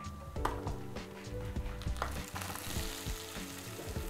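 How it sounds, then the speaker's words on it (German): Cumin, urad beans, garlic and onion fry in hot oil for an Indian tomato chutney, a dense, steady sizzle with crackles and pops plus occasional clinks of a utensil on the pan, close and with no talk. "Auf mittlerer Hitze anbraten, bis die Linsen goldbraun sind."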